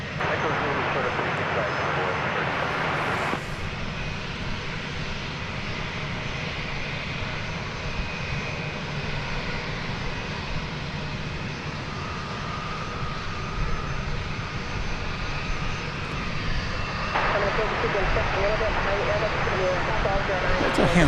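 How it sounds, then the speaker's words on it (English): A small jet plane on the runway at DFW gives a steady, loud engine roar close by, holding for the full stretch, with a voice heard faintly over it. "That's a handsome little plane."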